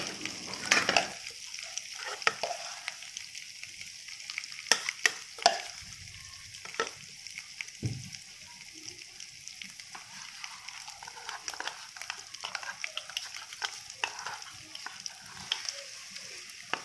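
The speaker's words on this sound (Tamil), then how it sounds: "கடுகும் சேர்த்து இப்படியே போட்டுருங்க தாளிக்கிறதுக்கு." Mustard seeds crackling and popping in hot oil for tempering, a steady fine sizzle with scattered sharp pops and an occasional stir of a spoon.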